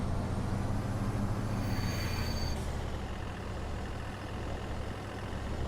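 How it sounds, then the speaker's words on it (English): Steady low rumble of a heavy vehicle engine in Farming Simulator 22, sounding like a dump truck, running evenly throughout with a brief high hiss early on, no talk. "Sound like a dump truck, by the way."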